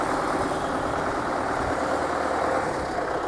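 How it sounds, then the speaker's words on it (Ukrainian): An MTZ tractor engine runs steadily nearby, a continuous low rumble with a rough, noisy drone and no breaks. "Трактор МТЗ."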